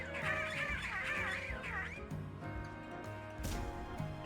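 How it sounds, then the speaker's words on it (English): A Squawkabilly, a video game bird, squawks and squabbles on rooftops, its warbling, pitch-sliding calls loud and dense over a steady game backdrop, fading into lower clutter before a brief burst near the end. "The Squawkabilly! Up on the roofs! Always squabbling!"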